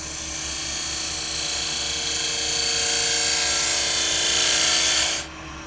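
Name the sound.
wood lathe shear scraping a bowl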